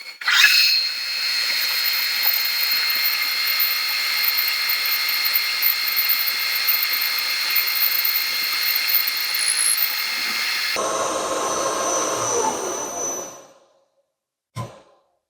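A power tool cuts and drills into a metal steam engine valve chest, running loud and steady for about thirteen seconds, changing pitch briefly near the end before stopping, followed by one short knock.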